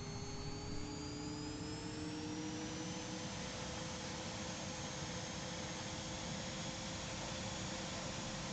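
A Hawk T1 jet engine in Flight Simulator 2020 spools up, a steady roaring whine with rising tones climbing throughout, loud and continuous with no talking.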